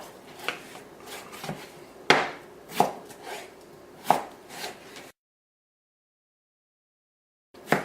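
A knife chopping potatoes on a cutting board for beef stew, with about five sharp, close chops at irregular intervals, a few seconds of silence, then one more chop at the end.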